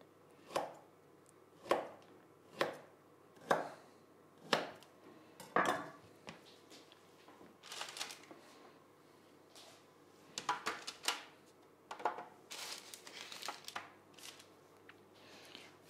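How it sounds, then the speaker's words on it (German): A knife slices almond-cinnamon cookie dough into half-centimetre-wide pieces, giving a steady series of crisp, close chops at roughly one-second intervals, followed by looser, quieter cuts and taps on the board. "jetzt immer so Scheiben schneiden, die so ungefähr einen halben Zentimeter breit sind"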